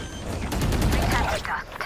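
Rapid gunfire from the video game Valorant crackles in a dense burst of shots for about two seconds, loud and close.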